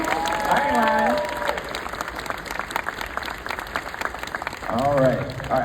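A convention panel audience claps as panelists come out, a crowd applause wash carried under someone talking loudly near the start and again near the end.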